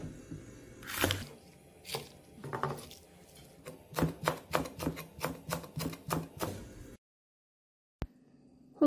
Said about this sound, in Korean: 홍고추, 청고추도 어슷썰기해서 준비를 해줍니다